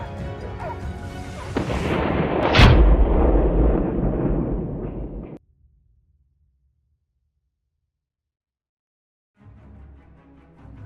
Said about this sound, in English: The gunshot rang out.